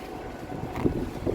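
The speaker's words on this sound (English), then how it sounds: "Oh my gosh, it's windy out here." Gusty outdoor wind buffets the microphone with a steady low rumble, swelling in a few stronger gusts toward the end; no voices.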